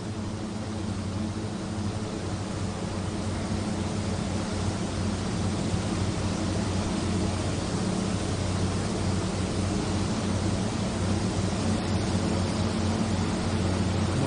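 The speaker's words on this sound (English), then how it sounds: "The little plane is running just fantastically." Steady, loud droning hum of a Tecnam P2006T twin-engine propeller plane's engines in the X-Plane 11 flight simulator, a constant broadband roar with low tonal bands running unchanged throughout.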